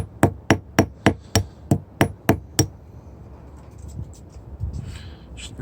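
Hammer peening a hand-made chain loop: nine sharp, evenly spaced metallic strikes ring out close and loud in quick rhythm, then stop, leaving faint handling noise.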